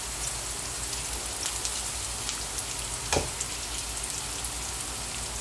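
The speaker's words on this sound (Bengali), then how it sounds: "এখন দিব পেঁয়াজ, যদি ভালো লাগে তো আলুও দিতে পারি ছোটো ছোটো।" Native chicken gizzard and liver fry in a pan, making a steady, quiet, rain-like sizzle with one brief scrape partway through and no talk.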